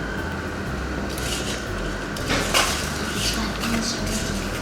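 Whole wheat spaghetti and a dash of oil go into a cooking pot, with metal clatter and clinks of utensils against the pan over a constant background hum.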